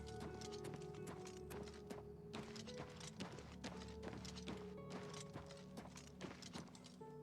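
Horse hooves clip-clop in a steady, brisk rhythm over a layered ambient background, with occasional soft thuds mixed in, from the video game The Elder Scrolls IV: Oblivion Remastered.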